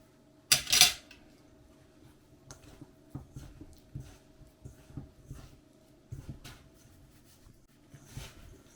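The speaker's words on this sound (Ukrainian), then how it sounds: "І це все нам потрібно перетерти в дрібну крихту" After an initial sharp clatter, soft repeated scraping and rubbing against a bowl, irregular and close, as a no-bake cake mixture is rubbed into fine crumbs by hand, with no voices.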